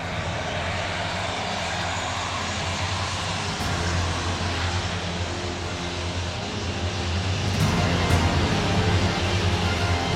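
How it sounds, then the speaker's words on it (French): An Airbus A400M military transport aircraft weighing 120 tonnes landing on a short strip, a loud, continuous close engine roar that holds steady and grows slightly louder toward the end, with no talking. "malgré ses 120 tonnes, Edward Strongman va poser l'avion sur moins de 300 mètres"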